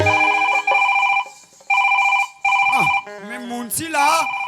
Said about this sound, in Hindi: अब मोर मोबाइल कैसे टुनून टुनून करत